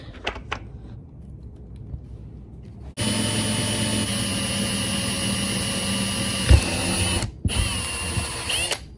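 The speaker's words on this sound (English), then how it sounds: "Just kind of let the drill bit do the work." A drill bit bores slowly through acrylic with a steady, loud, high-pitched whine that cuts in sharply after a few quiet seconds, briefly stops, then resumes.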